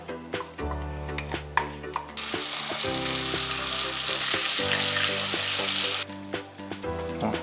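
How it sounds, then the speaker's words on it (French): Butter goes into hot melting caramel in a pan and bursts into a loud, continuous sizzle lasting several seconds, framed by clinking stirring and scraping of utensils before and after. "Donc, on va maintenant ajouter le beurre."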